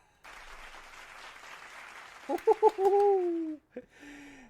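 A canned clapping sound effect plays faintly as a steady patter for about two seconds, then gives way to a short bird-like cooing burst.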